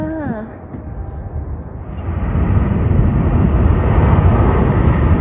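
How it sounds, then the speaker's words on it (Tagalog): A Qatar Airways airliner landing, heard from an airport sky deck as a broad, steadily building jet roar that grows louder and stays strong, with a person speaking briefly at the start. "landing na yung aeroplano. Ayan. Ayan na siya."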